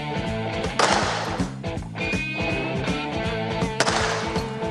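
Gunshots are fired near a horse to accustom it to the noise on a ranch, sharp cracks at irregular intervals over a busy background of rumbling and clatter.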